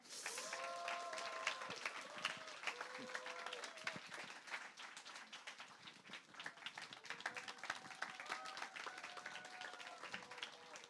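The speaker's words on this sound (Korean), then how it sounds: "큰 박수로 모시겠습니다" An audience at a high school church service applauds to welcome a missionary to the pulpit, steady sustained clapping from a large group throughout, with music tones and faint voices underneath.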